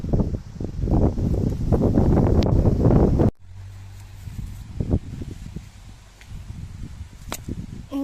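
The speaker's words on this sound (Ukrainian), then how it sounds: "дуже вітер, може якийсь шум буде" Steady rushing wind buffeting the microphone, loud gusty roar at first, then easing to a lower rumble with rustling.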